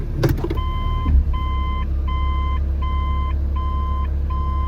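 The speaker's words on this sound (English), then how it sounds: "when you put it in reverse, the car beeps" Inside a Mitsubishi Pajero Mini, a reverse-gear chime beeps six times at an even pace, clear and close over a low engine idle, following a brief clunk of the shifter.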